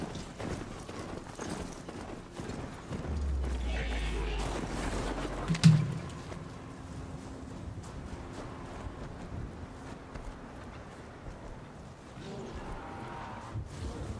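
Video game horse hooves clip-clopping at a steady pace, quiet and somewhat distant under faint wind-like background noise, with no talking.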